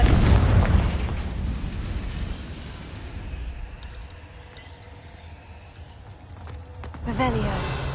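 A Confringo blasting spell explodes in Hogwarts Legacy with a loud, booming burst at the start that rumbles and decays over several seconds, followed by further spell effects and a second swell near the end.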